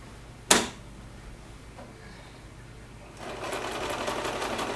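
A sewing machine stitches the layers of a quilted Christmas stocking together, a sharp click followed by a faint hum and then a steady, fairly loud mechanical whir in the last seconds.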